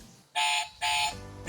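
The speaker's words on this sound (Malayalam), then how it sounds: "ആരെങ്കിലും എടുത്തോണ്ട് പോകുമ്പോൾ ഒരു അലാറം കേൾക്കുമല്ലോ" An alarm built into a gift box goes off when it is opened: two loud, sustained electronic beeps in quick succession, close and clear, with a third starting at the end.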